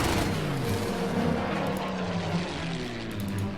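In a World War II strategy game set around Dunkirk, artillery fire and aircraft with propellers and Stuka dive bombers rumble together in a dense, steady roar of engines and low explosions, with no voices.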